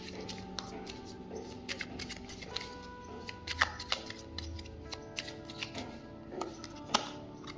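Tarot cards being shuffled and handled in a quiet room, giving a run of soft, papery riffles and light taps with a few sharper snaps, spread irregularly and close up, with no one speaking.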